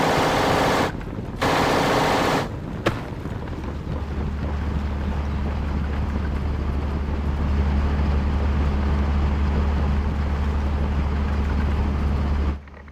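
An MG42 machine gun fires in the WWII strategy game Steel Division 1944: loud, dense, rattling bursts broken by two short gaps early on, then sustained continuous fire under wind-like noise.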